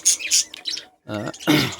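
A pair of adult pet birds, kept for breeding, chirp in a quick burst of short, close tweets with brief gaps between them.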